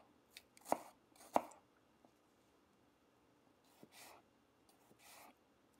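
An onion being diced with a sharp, bevel-edged knife on a board, giving a few crisp, close chopping knocks spaced irregularly, with quieter cutting sounds in between and no voices.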